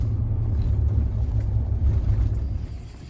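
A truck drives off-road through rough backcountry on an Arkansas deer hunt, its engine giving a steady, loud low rumble that stays constant throughout and eases slightly at the end, with no talk.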